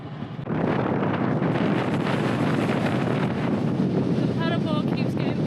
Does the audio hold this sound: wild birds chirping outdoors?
no